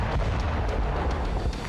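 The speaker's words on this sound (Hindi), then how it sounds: "बम जहां गिरा वहां एक चिंगारी से भी ऐसा ही धमाका होता" A heavy bomb blast at a weapons depot stacked with tons of gunpowder, a continuous deep rumbling roar with low-end weight throughout, loud and unbroken, with no voices.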